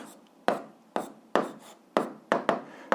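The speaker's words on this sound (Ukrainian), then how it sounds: "записуємо відповідь, пишемо відповідь" A pen writes an answer on paper in quick, crisp scratchy strokes, about six distinct bursts in an irregular rhythm, close and fairly quiet with no talking.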